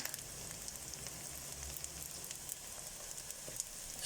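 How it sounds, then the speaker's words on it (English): Onions fry in a pan for a chicken noodle soup, giving a faint, steady hiss with scattered soft crackles and an occasional small pop, heard alone without voices. "Now you can see our onions are getting some nice colour on them now."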